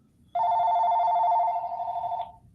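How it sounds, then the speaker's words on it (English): A telephone rings with one sustained electronic tone lasting about two seconds, loud and close against faint background noise, and no one talks over it. "our phone is ringing."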